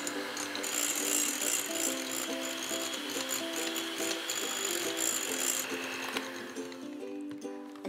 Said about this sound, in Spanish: la vamos a batir igual como si fuera una crema de leche